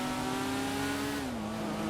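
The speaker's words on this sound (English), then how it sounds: "Is it me or is there 2 engine sounds in this?" A motorcycle engine in the video game GTA Online drones steadily, its pitch sliding slightly lower midway before holding even.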